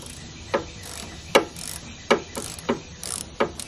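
A ratchet wrench backing out the bolt on the wiper control arm of a 2004 Pontiac Montana, clicking in about six distinct, evenly spaced bursts, close and crisp.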